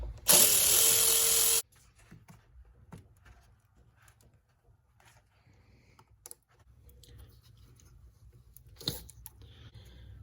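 A tool works on the intake parts of a Ford Explorer 3.5L engine: a loud, harsh whirring burst of about a second and a half, then sparse faint clicks, taps and handling noises.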